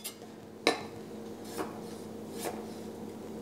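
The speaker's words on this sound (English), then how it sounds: "we're just gonna slice up a little bit of radish" A knife cuts radish into thin slices on a board, with a few distinct crisp chops spaced about a second apart over a quiet kitchen background.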